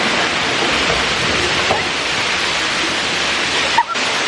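A waterfall in Pai, Thailand sends up a steady, loud rush of falling water that fills the whole scene without a break, with a brief knock near the end.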